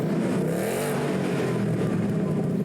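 Ford Mustang GT with its 5-liter V8 gives a steady, loud, close engine rumble that holds for a few seconds, with a slight rise in pitch partway through.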